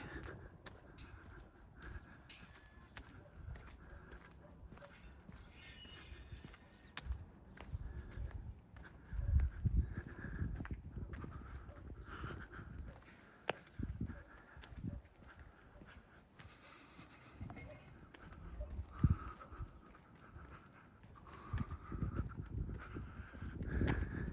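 Horses plod along in a field in North East Derbyshire, their hooves clip-clopping irregularly at moderate distance, with occasional louder thuds and faint background noise.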